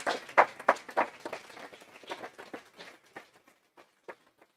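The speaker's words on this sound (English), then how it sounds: "May I request all of you to give a big round of applause to Dr. Deorari" Audience applause at the close of a talk in a medical memorial oration session: a dense burst of hand clapping that starts loud and thins out, scattered claps trailing off into silence over a few seconds.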